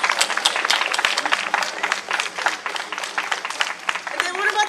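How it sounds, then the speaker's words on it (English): Audience applauds for parents at a summer welcome event, uneven clapping with individual claps standing out, mixed with crowd noise and voices talking over it, a voice rising at the end. "Let's have a round of applause for the parents."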